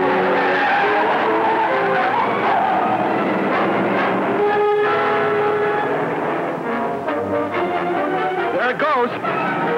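Car in a 1946 black-and-white film pulling away with tyres skidding, a loud sustained squeal and engine roar over dramatic score, fading off as the car drives away.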